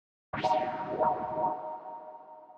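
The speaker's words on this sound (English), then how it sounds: "this filter is just opening and closing, a low pass filter, with the LFO just controlling a rate at 1/4" An FM synthesizer tone starts abruptly, its low-pass filter swept open and closed by an LFO at a quarter-note rate in a slow rhythmic wobble, then sustains and fades with a reverberant tail.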